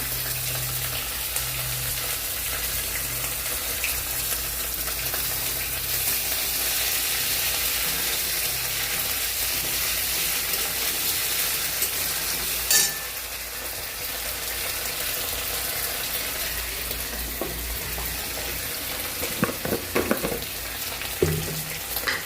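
Ginger, cumin paste and two green chillies frying in a pan, a steady broadband sizzle running throughout with a few sharper spatters and stirring clicks near the end, no voices.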